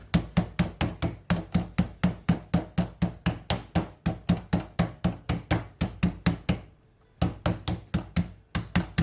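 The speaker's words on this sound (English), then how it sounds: "I'm gonna take one of my meat beater like a hammer" Steady, rapid pounding of a meat mallet on chicken, about three blows per second, loud and close, with a brief pause near the end.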